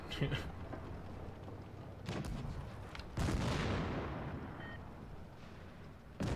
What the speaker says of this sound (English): Just gonna shoot the Sheridan instead.